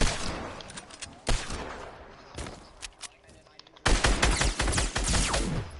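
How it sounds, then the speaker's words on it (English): Bursts of video game gunfire in Fortnite, loud dense volleys in a few separate clusters with the heaviest firing at the end and quieter stretches between. "Why are you shooting me?"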